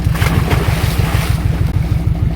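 Sea waves washing in after heavy rain, a steady rushing surf with strong low rumble and wind buffeting the microphone, continuous and close, with no voices.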